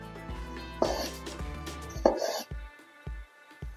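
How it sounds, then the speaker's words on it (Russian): A knife chops tomato halves into large cubes on a board: a few uneven cuts, then a quicker run of regular thunks over a faint tonal background. "Беру по половинке каждого и нарезаем большими кубиками."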